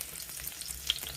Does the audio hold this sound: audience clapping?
no